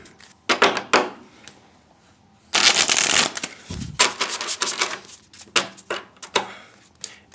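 Tarot cards being riffled and shuffled up close, a series of crisp papery bursts and flutters with short pauses between, no voices.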